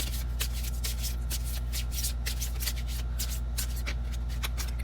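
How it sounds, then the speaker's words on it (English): Tarot cards being shuffled by hand during a card reading, a steady run of soft riffling and sliding card sounds over a constant low hum, with no talking. "I'm just not used to shuffling them this way."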